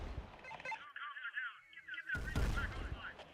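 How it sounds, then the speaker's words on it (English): A heavy artillery barrage booms in a video game, a dense roar of distant blasts and gunfire at the start, a muffled whistling lull, then another loud burst of thudding explosions at the end. "That was a heavy artillery barrage there"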